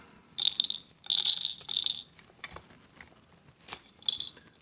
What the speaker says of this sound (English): you don't really need to grind that many beans